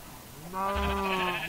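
A sheep in Minecraft, played with the Feed the Beast modpack, gives one drawn-out, wavering bleat. It starts about half a second in and holds to the end, close and clear, with no talk.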